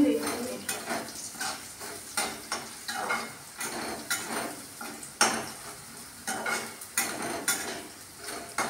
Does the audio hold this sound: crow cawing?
no